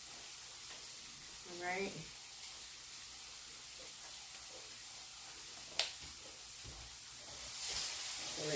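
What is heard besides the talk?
scallops and shrimp searing in a pan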